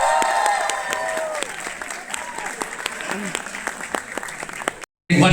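An audience at a startup talk and comedy event at IIMB breaks into sustained applause of crisp individual claps, with a voice talking over it, before a brief silent gap near the end.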